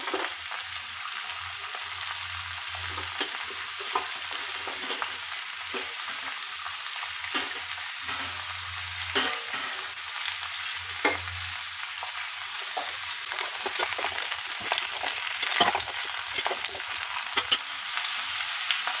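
Drumstick stalks hit hot oil with frying vegetables for a Bengali shukto, giving a steady bright sizzle broken by repeated scraping and stirring clatter, close and alone without talk.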